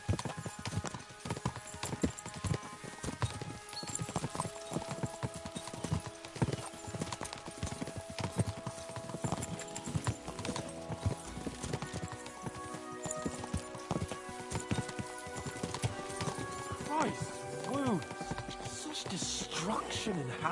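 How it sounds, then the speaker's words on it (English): Horses gallop in Kingdom Come: Deliverance, a steady run of clip-clopping hooves carrying through the whole stretch, with occasional whinnies and game music and voices layered over the dense hoofbeats. "We should spur the horses on."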